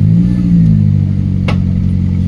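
A car engine revs steadily and loudly throughout, its low hum rising slightly at the start and a brief clatter near the middle, as a learner gently presses the accelerator during a driving lesson.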